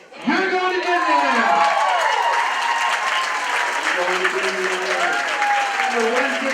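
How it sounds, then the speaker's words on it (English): A crowd at a charity auction for children erupts in loud applause with some cheering and whoops, sustained clapping running under an amplified voice speaking over it. "Folks, give yourselves these in-time applause."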